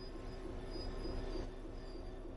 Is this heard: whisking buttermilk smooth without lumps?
no